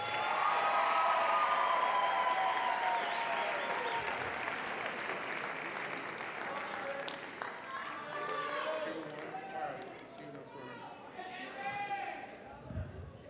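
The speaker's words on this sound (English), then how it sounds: "Let's give everyone one more round of applause." Audience applause at the close of the 2018 Mr. Wayzata pageant, with loud sustained clapping and cheers at the start, thinning over time while shouts and voices rise through the crowd.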